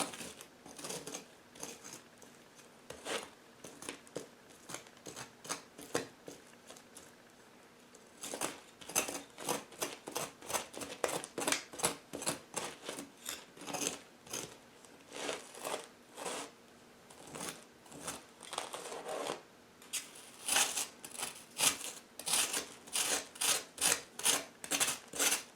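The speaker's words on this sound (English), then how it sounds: "So I'm going to scrape it a little bit." A blade rasps repeatedly across charred fat on a grilled beef brisket, scraping strokes coming in quick rhythmic bursts with short pauses, close and fairly quiet with no talk.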